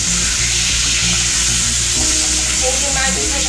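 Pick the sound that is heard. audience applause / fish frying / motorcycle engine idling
fish frying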